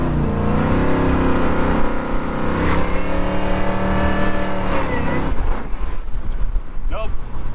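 Supercharged G-body car engine labouring uphill on corn-juice fuel, a loud sustained drone with shifting pitch and heavy wind buffeting, close to the microphone; rougher, noisier rumble toward the end.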